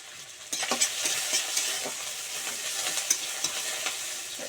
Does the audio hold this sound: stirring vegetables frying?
yes